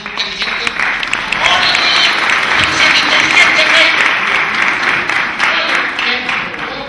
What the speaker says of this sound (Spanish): Un aplauso inteligente.